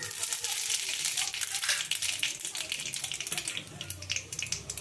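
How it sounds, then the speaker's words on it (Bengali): Dried red chilies crackling and frying in hot oil, a busy bright sizzle with rapid pops and spatters throughout, close and fairly loud. "এইভাবে পুরোটা ফাটিয়ে লঙ্কাটা একটুখানি ভাজা ভাজা হবে"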